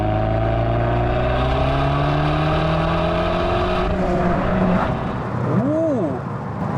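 A Fiat Abarth car engine is blipped on the throttle, a loud, steady revving drone with rising pitch that eases off, then a quick rise-and-fall rev near the end.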